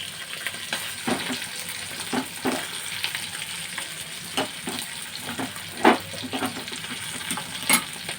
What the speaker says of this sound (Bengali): মশলা মাখিয়ে এক এক করে মাছগুলো আমি গরম তেলে দিয়ে দিয়েছি।